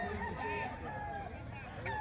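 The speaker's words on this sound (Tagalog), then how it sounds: "Manok to ni Sir Christian mga bossing." A rooster crows faintly in short wavering calls, with hens clucking and a voice murmuring in the background.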